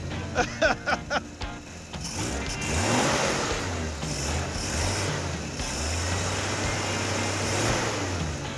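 An AMC Pacer's engine revs up from idle and holds a steady, rumbling drone, following a few sharp clicks at the start.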